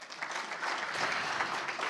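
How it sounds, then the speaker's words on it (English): A conference audience applauds steadily throughout, dense continuous clapping from many hands at an even level. "Give him a round of applause."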